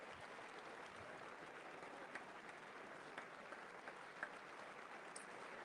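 Applause at the State of the Union before Congress, a steady, even wash of clapping from a large chamber crowd that stays constant and fairly quiet throughout, with a few sharper claps standing out.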